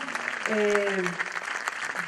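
An audience claps for Humberto Maturana at an event in Pichidegua, a short burst of applause with a voice briefly sounding over the clapping midway.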